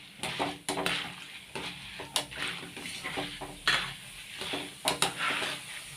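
Dal fries in hot oil just used for cashews, a soft crackling sizzle close by, broken by several sharp clinks and scrapes of a spoon against the pan.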